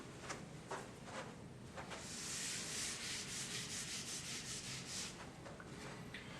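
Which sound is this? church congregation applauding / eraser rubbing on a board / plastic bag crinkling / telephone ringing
eraser rubbing on a board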